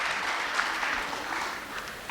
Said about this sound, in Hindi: So let's begin the event with a huge round of applause. थोड़ी ज़ोर से तालियां प्लीज़।